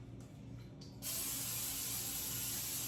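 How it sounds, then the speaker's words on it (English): After a moment of quiet, an aerosol can sprays in one steady, close hiss that continues to the end. "I'm gonna spray a little bit of this in here."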